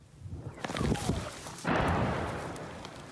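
A heavy artillery blast booms out mid-clip, loud and sudden, following earlier scattered thuds, with a rumbling tail afterward.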